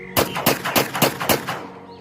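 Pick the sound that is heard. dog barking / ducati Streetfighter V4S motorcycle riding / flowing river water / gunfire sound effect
gunfire sound effect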